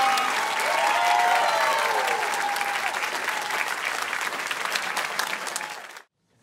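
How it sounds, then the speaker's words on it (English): A concert audience gives a high school choir sustained, dense applause with scattered voices calling out, loud and steady for about six seconds before cutting off abruptly. "Let's keep that applause going, everybody,"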